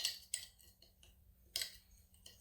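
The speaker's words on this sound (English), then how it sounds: "Give that a little bit of a stir." A spoon clinks lightly against a bowl while stirring yeast, sugar and warm water, a few soft, irregular taps and scrapes, quiet and close with no voices.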